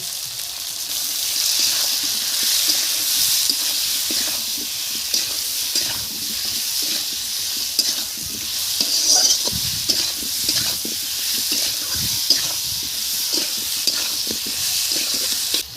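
Onions and potatoes fry in a pan with turmeric, chili and salt, giving a continuous bright sizzle with scraping stirs throughout, close and fairly loud; no talking.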